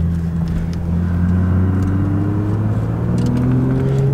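Audi R8 engine droning steadily while driving, a low continuous exhaust burble with subtly rising tones, close and loud inside the car, no talking.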